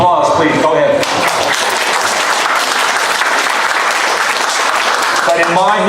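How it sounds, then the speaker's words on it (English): Audience applause at a Chiller Theatre Creepshow 2 Q&A, steady dense clapping filling the room for several seconds, with voices talking over it at the start and end. "Applause, please"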